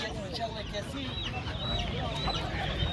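Chickens and roosters clucking and murmuring at a busy poultry and bird market in Adana, with scattered bird calls and faint voices in the background.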